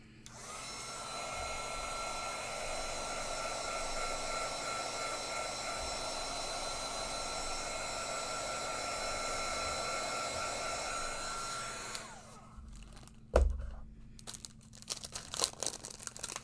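A heat tool blows steadily to heat-set freshly stitched needlework, a continuous loud whooshing hum that runs unbroken for about twelve seconds before cutting off, followed by a sharp clunk and light handling noises.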